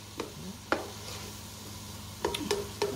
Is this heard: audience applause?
no